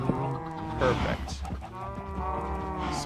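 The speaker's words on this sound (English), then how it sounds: "Sorry for the crazy noise of the cows." Minecraft cows moo in long, drawn-out tones that overlap one another, loud and close, with no talking over them.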